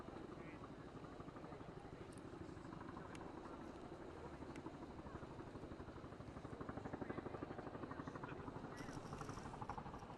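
Helicopters pass overhead at a golf course event, a steady rotor chop in the background that swells slightly toward the end, with people talking over it.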